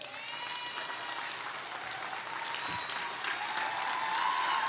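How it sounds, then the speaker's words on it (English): Steady applause from a crowd, dense and continuous clapping that swells slightly toward the end, with no voices. "Carlos, clap it up right quick."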